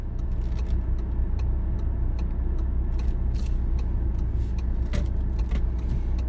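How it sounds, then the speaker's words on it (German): Car rolling slowly in first gear without throttle, a steady low engine and road rumble inside the cabin with faint clicks and ticks over the top. "dann erste Gang, einfach hier reinrollen ohne Gas"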